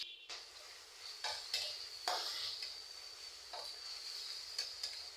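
Two large koi fish frying together in a pan, a steady soft sizzle with a few brief clinks of a utensil against cookware.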